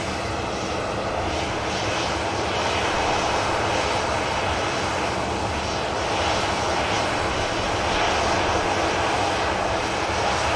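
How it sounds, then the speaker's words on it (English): A Ryanair jet's engines spool up at an airport, a loud, dense, broadband roar that holds steady and swells slightly toward the end, with no voices. "Ryanair spooling up."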